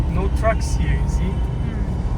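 Heavy vehicle engines rumble at a road construction site on the Transfagarasan in Romania, a continuous low drone close by with brief higher whines, while people talk over it.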